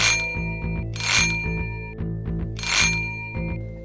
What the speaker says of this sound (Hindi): डोर बेल की घंटी बज उठी